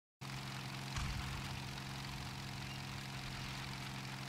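ASU-57 tank engine idling in a video game, a steady low mechanical drone with dense harmonics that holds even and alone throughout, swelling briefly near the start.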